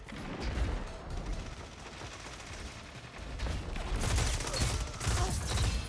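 Pulse rifle fire in a video game, with rapid three-round bursts crackling in quick clusters over a busy game soundscape, moderately loud with repeated volleys.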